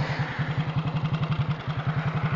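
Motorcycle engine held against the rev limiter, a rapid, steady stutter of cutting-out pulses bouncing at high revs, loud and close for a couple of seconds with no talking.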